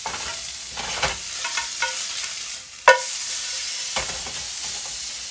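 Ribs fry in their own fat in a pan for an Ethiopian tibs dish. A steady sizzle runs throughout under repeated stirring scrapes and a sharp metallic clank near the middle.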